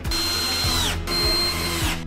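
A power screwdriver drives self-tapping screws into the frame of a 160x200 lift-up bed, with two close whirring bursts, each winding down as the screw seats, and no talking.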